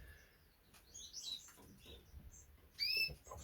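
Aviary finches, including a Bengalese and silverbill hybrid and a silverbill cock, give sparse, thin high chirps and tweets, scattered and fairly faint with one brighter call near the end.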